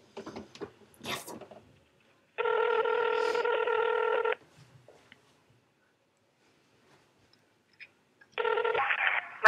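A telephone rings in two bursts of steady electronic ring, one longer in the middle and one starting near the end, with brief scattered noises and faint voice-like sounds between them.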